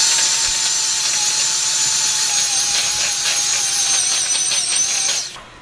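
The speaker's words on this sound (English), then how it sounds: "I'm going to first start mixing with my hand mixer." Electric hand mixer beating thick cookie dough of wet ingredients, a steady high whine running loud and continuous for several seconds with faint rattling, then cutting off abruptly at the end.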